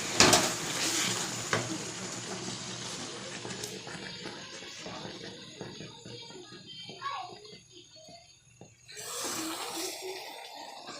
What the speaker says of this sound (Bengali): মাঝে মাঝেই নাড়া দিচ্ছি